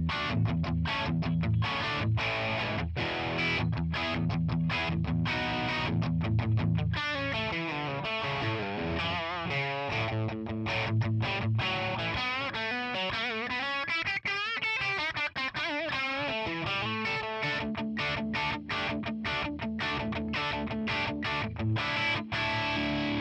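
A Les Paul electric guitar plays through a Tonex ONE boutique amp model with a noise gate, giving a distorted lead tone with choppy, gated chords early on, then sustained ringing notes and bends.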